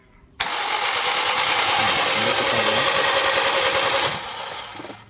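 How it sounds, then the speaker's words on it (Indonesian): A Toyota Yaris engine cranks and catches during a carbon-clean service, roaring steadily at close range for about four seconds before being cut off and fading. "kemudian kita start mesin, jangan lama-lama ya, paling maksimal 5 detikan lah ya"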